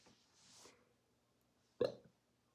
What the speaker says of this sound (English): sorry about that. I burp all the time.